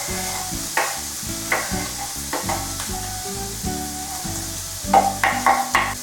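Onion sizzles in a hot pan for chilli con carne, a steady close frying crackle with occasional louder pops and stirring clatter, and no voices.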